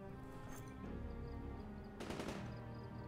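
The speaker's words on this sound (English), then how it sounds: "More gunshots." Distant gunfire crackles in bursts in Project Zomboid, with a louder volley near the middle, over a steady background of music-like tones and no voices.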